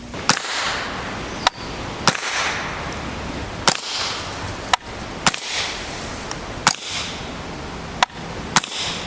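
A .22 rifle fitted with a Q Erector suppressor fires Winchester M22 subsonic ammunition outdoors. About nine sharp, muted cracks come at irregular intervals, each a short, dry snap with no talking.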